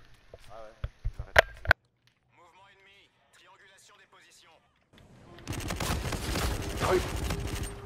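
Automatic gunfire rattles in Call of Duty Infinite Warfare: a few sharp shots at the start, then a pause filled with quiet speech, then a dense, loud burst of rapid fire that runs to the end.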